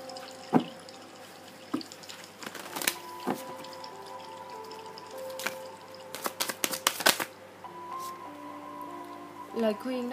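Tarot cards drawn and handled in a quiet room: soft shuffling and flicking with a few crisp taps, scattered slaps of cards landing, and faint tonal hums in the background.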